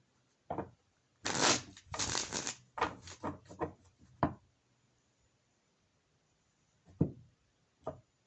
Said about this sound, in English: I'm going to go ahead and shuffle these cards